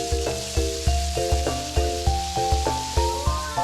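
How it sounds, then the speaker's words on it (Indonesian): Spice paste sizzles steadily in a frying pan after fried fish is taken out, crackling loudly and close as it is stirred, with rhythmic background music playing over it. "Sekarang kita masukkan bumbu dan aduk hingga rata."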